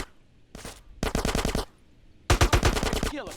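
Bursts of automatic gunfire in the video game GTA San Andreas: three loud rapid volleys of close shots with short gaps between them, no talk over them.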